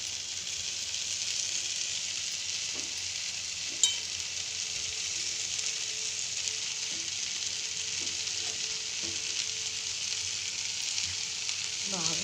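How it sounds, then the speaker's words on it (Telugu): Onions and tomatoes sizzle steadily in a pan for a greens chutney, a soft continuous frying hiss with occasional stirring clinks, heard alone and fairly quiet. "ఎర్రగడ్డలు టమాటాలు మగ్గాయి ఇప్పుడు మనము కుక్ అవుట్ చేసుకోవాలి"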